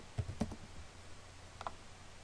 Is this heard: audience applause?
no